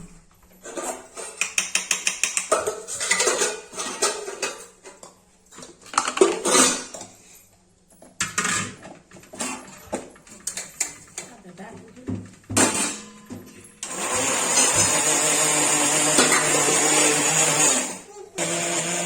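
A mixer grinder crushing dosa batter runs in loud bursts, with a sustained grinding whir near the end, amid clinks of kitchen utensils and a person talking in between.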